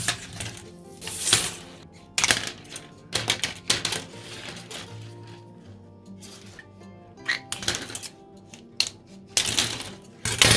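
Hard plastic clips salvaged from a construction site being cut one after another, giving sharp snapping clicks in irregular bursts with quiet gaps between, close and fairly loud, with no voices.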